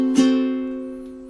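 Ukulele plays measure 3 of a song with a single strummed chord in a down-up-down pattern, a bright attack followed by a sustained ring that slowly fades, heard close and alone.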